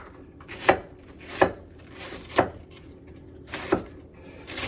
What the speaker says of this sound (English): I also cut from the center of the onion so that I have these kind of like larger wedges.